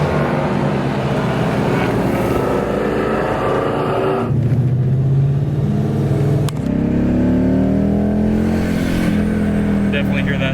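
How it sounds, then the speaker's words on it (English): A supercharged 2011 Lexus IS F fitted with an RR Racing supercharger kit revs loudly and close up. Its engine roars steadily, then climbs in pitch under hard acceleration over a constant rumble with supercharger whine. "Definitely hear that supercharger."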